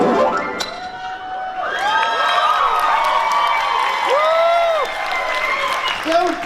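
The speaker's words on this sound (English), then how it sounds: "Don't clap for for that." An audience at a Midsummer Scream convention panel for Queen Mary's Dark Harbor claps and cheers loudly for several seconds, with whoops and shouting voices over sustained, close applause.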